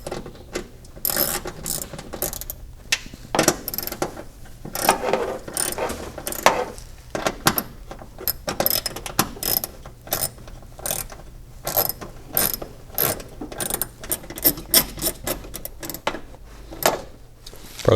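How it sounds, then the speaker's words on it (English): Small self-tapping screws are driven into thin fender-well sheet metal on a Mitsubishi Mighty Max truck, with bursts of ratcheting, whirring driver and grinding threads that start and stop over and over, close up and with no talk. "It's just some little bitty self-tapper screws going into the fender well sheet metal"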